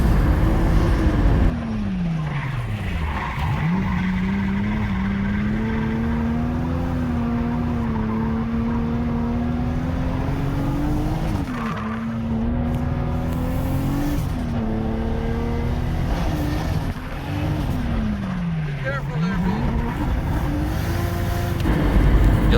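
A drift car engine screams at high revs on a track, repeatedly bouncing off the rev limiter in third gear with a stuttering, droning tone, loud and close throughout.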